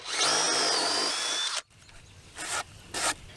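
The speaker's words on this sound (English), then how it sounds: "I've got a 5/8 Forstner bit, and I'm just going to drill a hole right here in the middle." A 5/8 Forstner bit bores a hole in a wooden bottom plate of framing: a loud, steady power-drill whine for about a second and a half, cutting off abruptly, then a few short, quieter bursts of the drill.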